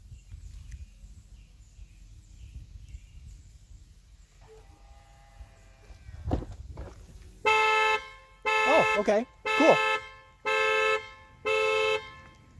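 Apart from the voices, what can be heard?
Tesla Sentry Mode car alarm sounding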